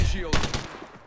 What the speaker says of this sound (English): Don't you shoot at me